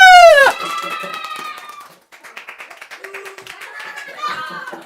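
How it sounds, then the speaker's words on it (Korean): A congregation at a church Christmas Eve Bible quiz event claps in a scattered, moderately loud patter after a sharp vocal exclamation, with tones and voices mixed in. "그럼 우리 큰 박수로 한번 모셔보겠습니다."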